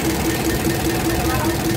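Isuzu 4BC2 diesel engine idling steadily after injection pump calibration, a continuous low rumble with an even, regular knock pulsing about five times a second, loud and close throughout.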